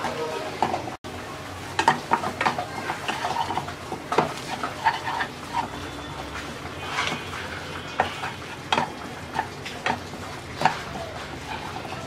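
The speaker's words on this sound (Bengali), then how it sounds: "তিন থেকে 4 মিনিট ভর্তাটাকে নাড়াচাড়া করার পর এবার আমরা ভর্তাটাকে নামিয়ে নিচ্ছি।" A spoon stirs black seed and bottle gourd leaf bharta in a pan, scraping and tapping against the metal in a steady, close rhythm over a faint sizzle.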